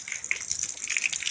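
Water runs steadily from a tap at home, a constant, moderately loud gushing hiss with no break and no talking over it.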